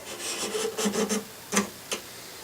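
A file rasps on a wooden guitar neck in a series of quick back-and-forth strokes, close and fairly loud, followed by two short separate scrapes with no talking.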